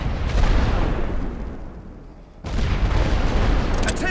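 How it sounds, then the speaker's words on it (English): Rolling artillery barrage in the World War I strategy game The Great War: Western Front, a dense continuous rumble of shell bursts that dips briefly, then surges back loud and sustained. "Oh, rolling barrage."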